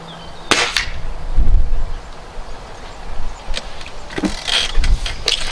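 Gamo Roadster 10X GEN2 air rifle being fired at a target: several sharp, close, loud snaps spread across a few seconds, with handling clicks and rustle between shots and no talking.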